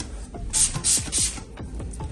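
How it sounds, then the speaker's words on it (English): Three quick hissing sprays from a spray bottle misting soapy water, evenly spaced, with soft clicks of the trigger between them. "and then you just spray this."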